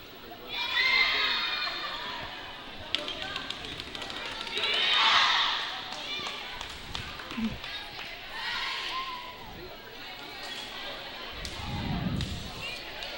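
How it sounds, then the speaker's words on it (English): A crowd at a high school volleyball game, Parkersburg versus Parkersburg South, stomps feet and claps hands, a loud rolling din of thumps and cheering swelling in waves, with voices shouting throughout. "Crowds are getting fired up once again with their stomping of their feet and clapping their hands."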